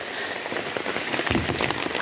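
Steady rain patters on surfaces in a mountain setting, a dense, close hiss of drops with scattered louder splats and no voices.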